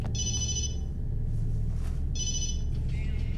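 A telephone ringing in the video game Obscure, two trilling electronic bell bursts separated by a pause, clear and fairly close over a low steady background hum.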